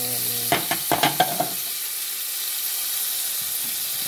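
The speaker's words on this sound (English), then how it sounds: "have some tomatoes in there, frying up." Tomatoes frying in a pan, a loud bright sizzle with a few quick stirring scrapes at the start, then a steady hiss, no talking.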